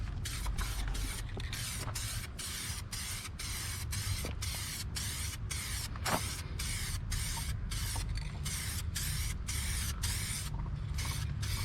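A spray paint can hisses in a rapid series of short, even bursts, close by, with a soft rattle underneath.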